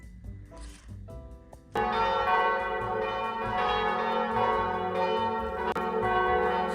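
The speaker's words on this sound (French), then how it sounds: "je sais même pas si on va m'entendre avec les cloches en fait" Church bells ring loudly and continuously, a dense clanging peal that swells in after a quieter moment with some tones in the background.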